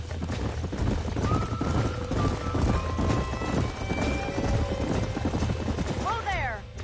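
Horses clip-clopping and neighing in the Red Dead Redemption video game, steady hoof beats with a whinny near the end, under music and ambient game sound.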